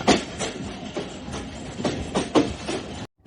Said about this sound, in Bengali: আর আমরা এখন লুপ লাইন দিয়ে অতিক্রম করে যাচ্ছি নোয়াপাড়া